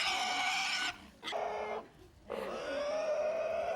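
A pig at a farmhouse feast in rural Korea, slaughtered for a family celebration, lets out loud, close squeals and grunts in three bursts separated by brief pauses.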